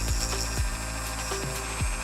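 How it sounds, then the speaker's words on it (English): A Dremel rotary tool cuts plastic on a 1/60 scale model kit, a steady high whine with sharp grinding bursts as the bit bites in, close and loud with no talking. "This Dremel is too flimsy."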